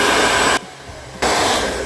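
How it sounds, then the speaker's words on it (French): A hair dryer blows steadily and loudly while drying latex wound makeup, cutting out briefly mid-clip before resuming at full strength, with no talking. "Hop là, sèche-cheveux."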